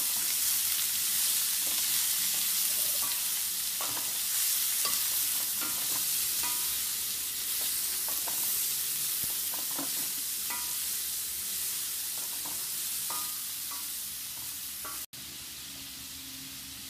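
Beetroot pieces with tempering spices are stirred steadily in a frying pan, a continuous sizzle running underneath the repeated scrapes and taps of the spoon, close and fairly loud, with no talking.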